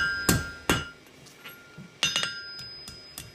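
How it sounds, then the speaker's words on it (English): A blacksmith's hammer rings on steel while a bottle opener is forged, sharp metallic strikes in an uneven rhythm, two near 0.3 and 0.7 seconds, then a cluster of lighter taps and clinks, close and clear with no talking. "It's really important the angle of the hammer."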